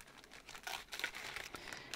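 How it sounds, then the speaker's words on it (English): Plastic bags holding beads and threads crinkle close up in short, irregular bursts, with no voices. "I like when beads and threads come in plastic bags."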